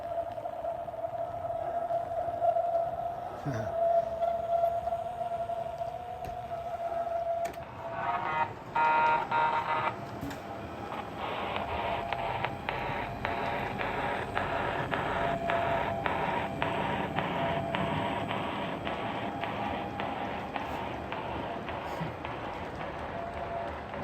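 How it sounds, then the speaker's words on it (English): A thin, steady electronic switching whine from a model locomotive's motor controller, a Blunami in a 3rd-rail PRR GP7, sounds alongside low mechanical rumbling and light clicks, fairly close, without clear talk. "you can hear that classic switching frequency for the motor control"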